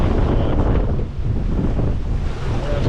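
Strong wind buffets the microphone as steep, short-period waves, about three metres high, pound a small electric-motor boat heading into a 20-knot headwind at sea off Newfoundland in winter; a dense, constant rushing roar with no talking.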